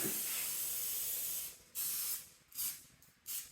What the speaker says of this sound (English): I'm just gonna spray all the cellophane